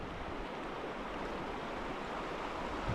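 River water rushing over rocks on a brown trout fishing stream, a steady broadband hiss and gurgle with no break, fairly close and without voices.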